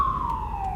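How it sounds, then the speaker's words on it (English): Ambulance siren heard from a car in traffic, a loud steady wailing tone sliding slowly downward in pitch over under a second, with road rumble beneath. "There's an ambulance behind us, so we're trying to allow it to pass"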